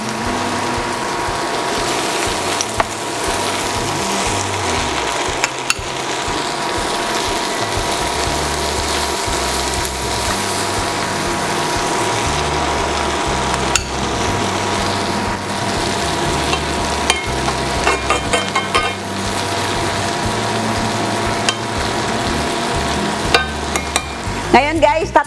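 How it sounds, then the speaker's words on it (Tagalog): An egg fries with sisig in a pan, a loud, constant sizzle that runs throughout, with occasional sharp clicks and scrapes and no talk. "pwede na nating ilagay ang ating egg"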